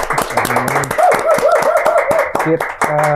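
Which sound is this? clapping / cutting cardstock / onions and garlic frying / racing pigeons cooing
clapping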